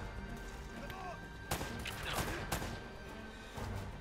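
Gunfire in the action game Uncharted: Drake's Fortune, a few sharp broadband shots cracking over a busy combat backdrop, with a cluster of reports in the middle of the stretch.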